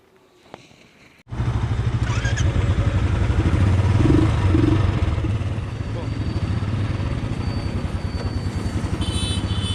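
A Royal Enfield Classic 350 BS6 motorcycle starts up and is ridden. Its loud thumping single-cylinder exhaust pulses steadily and rises briefly as it pulls away.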